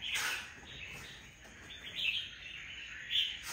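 A recently trapped red-whiskered bulbul, still frightened after being let out of its cage, gives bright chirping calls in short bursts, loudest near the start and again toward the end.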